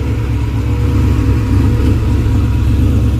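A tuned car, its engine set up by Bitter Motorsports, revs hard through a burnout at a hood track event, a loud, continuous engine roar held right up close with no break in it.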